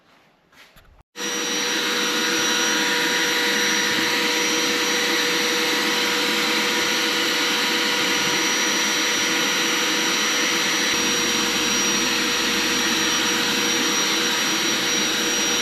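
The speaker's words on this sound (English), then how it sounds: "So it's off to the sandblaster now." A sandblaster blasts Triumph LED indicator parts, starting abruptly after a second of quiet handling and then holding a loud, dense, continuous hissing roar for the rest of the clip.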